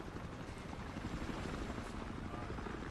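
A helicopter in the video game Battlefield Hardline gives a steady, dense rotor roar that stays constant and fairly loud throughout, with no clear speech.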